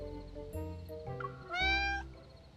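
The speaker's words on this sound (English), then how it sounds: "I point to the kitten that's still nearby" A kitten meows several times in the Love and Deepspace video game, clear, close and tonal cries with a longer rising final meow over faint background music.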